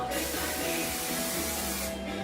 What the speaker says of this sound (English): I'm gonna spray this.